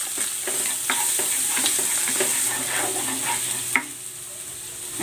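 Garlic sautéing in a pan for pork menudo, a steady close sizzle under a run of scraping stirs and light clinks, with no voices.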